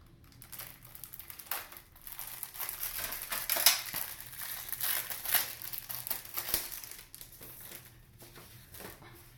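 Close-up crinkling and rustling of plastic packaging being opened, with irregular crackly bursts and small clicks over several seconds, no talking.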